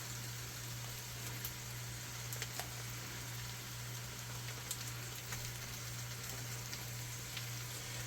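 Butter and chicken for a fricassee sizzle gently in a pan, a faint continuous crackle with small pops over a steady low hum, with no talk.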